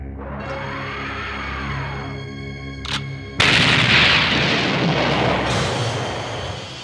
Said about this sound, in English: Looks like some kind of super cannon.